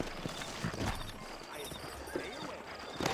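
Horse hooves clip-clop steadily in a Red Dead Redemption game scene near New Ulm, the rhythmic footfalls mixed with ambient game sound and a voice speaking over them.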